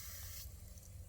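A garden hose nozzle sprays water on its shower setting, a steady loud hiss of fine jets that continues throughout with a slight change in tone partway, no talking.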